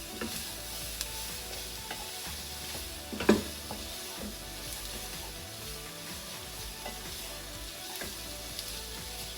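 Onions and flour cooking together in a pan for French onion soup, giving a low steady sizzle with scattered utensil scrapes and one louder clatter partway through, no voices.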